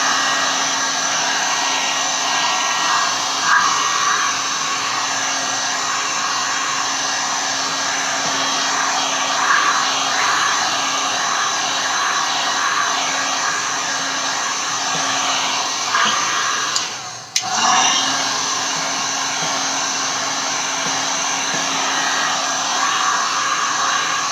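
Heat gun blowing continuously to dry a canvas, a loud close steady roar with a brief dip when it is moved or switched, then resuming at full strength.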